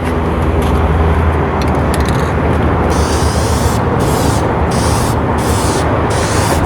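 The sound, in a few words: spraying coats onto plastic headlight lens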